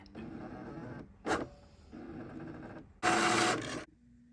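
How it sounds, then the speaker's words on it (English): A Cricut Maker 4 draws in printable holographic iron-on sheet and cuts it, giving a steady whirring mechanical drone with two short, louder motor bursts, all close by and without speech. "It's going to read the registration marks and then it'll cut."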